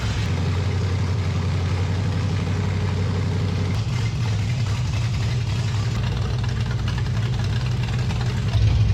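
A garage-built 1946 Chevy rat rod engine idles loudly and steadily, a deep throbbing rumble that holds for several seconds with a slight shift midway.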